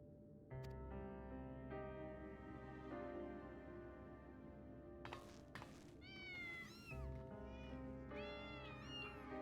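Cats meow in Final Fantasy XIV, with several rising, drawn-out mews arriving in clusters over a sustained musical background, fairly faint and with no voices.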